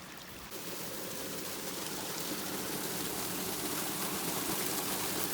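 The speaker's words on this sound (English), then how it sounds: "there's another big creek over there" Snowmelt runoff pouring down a creek along a high backcountry trail, a steady broadband rush of moving water that swells in after a brief quieter start and holds at a constant level throughout.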